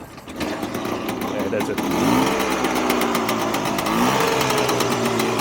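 A Trabant car's small two-stroke engine revs up under light throttle, a buzzy, rattling drone that climbs in pitch and holds steady, close by, with someone speaking briefly over it.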